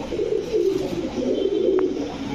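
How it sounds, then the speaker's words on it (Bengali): Pankhi pigeons cooing in a pigeon farm, a steady low burbling coo from several birds close by, continuous throughout with no talk. "পাঙ্খি এটা কবুতর।"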